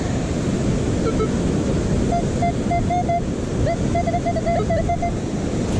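Steady wind blowing along a winter beach with surf rolling in, a continuous broadband rush that holds even throughout, joined by faint intermittent electronic beeps from a metal detector.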